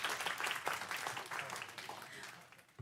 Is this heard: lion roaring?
no